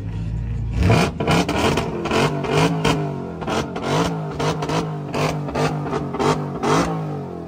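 Dodge Challenger SRT Demon Hellcat V8, tuned to around 900 horsepower, revving hard at a car takeover: a loud, close engine fires up and then gives a string of sharp throttle blips, each rising and falling with a rough rumble.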